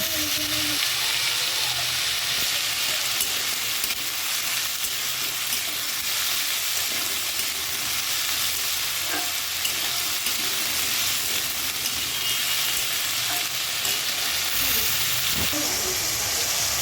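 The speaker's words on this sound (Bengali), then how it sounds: "এইখানে আবার হচ্ছে যে আলু ভেজে নিচ্ছে আলুগুলোও ভেজে নেবে" Potatoes fry in hot oil, giving a steady, dense sizzle that holds at an even loudness throughout, with a few faint clinks of stirring and no speech.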